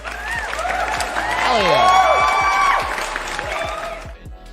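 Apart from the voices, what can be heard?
applause for a good first trade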